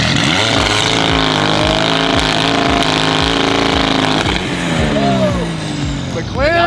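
A McLaren supercar engine roars loudly up close, revving in rising and falling sweeps with pulsing exhaust, while voices talk over the noise.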